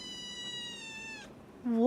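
A kitten gives a long, clear, tonal meow close by, followed by the start of a second rising meow after a short pause.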